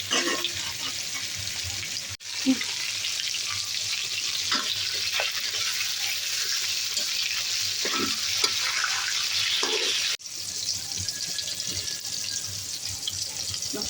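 Rohu fish fry in a pan with a continuous, close sizzle, broken by short clatters and scraping taps as the pieces are turned.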